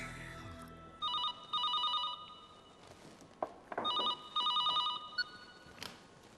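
Phone ringing in a quiet outdoor park scene, several bursts of electronic two-tone ring pulses in short trains, fairly faint with small knocks and rustles between rings and no talk.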